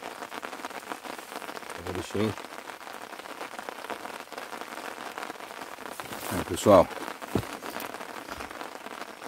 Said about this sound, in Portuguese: Batendo a chuva